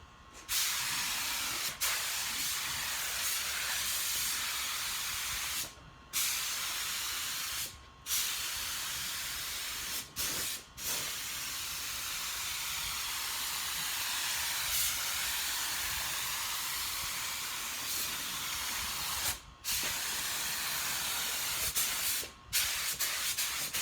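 A spray gun hisses steadily while laying a final coat of clear on Dodge Ram rocker panels, with long continuous bursts broken by short pauses as the trigger is released.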